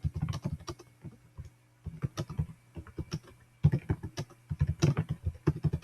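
Typing on a computer keyboard in quick bursts of clicking keystrokes with short pauses between them, close and fairly quiet.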